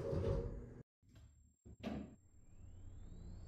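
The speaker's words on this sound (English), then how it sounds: "Screaming door operator." An elevator door operator motor with a known door fault runs with a loud, harsh screech, a sustained high-pitched squeal that slides upward over a few seconds, accompanied by the mechanical rumble and clunks of the doors moving.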